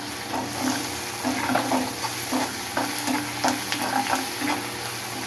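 Prawn fry ingredients with curry leaves sautéing in a hot pan, a steady close sizzle and crackle with a spoon stirring and scraping at an irregular rhythm throughout.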